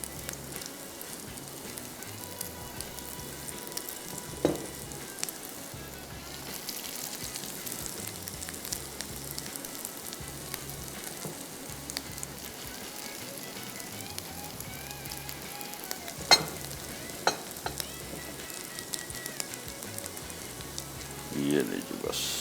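Galawati kebabs fry slowly over a low flame in a pan, giving a soft, even sizzle like light rain, with a few faint clinks and no one speaking.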